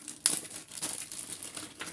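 A small plastic parts bag crinkles softly as it is opened, crisp irregular rustles with a sharper snap near the start, close and quiet, with no one speaking.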